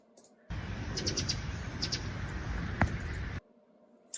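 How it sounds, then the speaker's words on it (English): A bird chirps in a few short, faint calls within a steady band of broadband background noise. "the chirping in the moment is just a bird"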